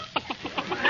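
A hen clucks in a quick series of short, evenly spaced calls, close and clear, with no other sounds around it.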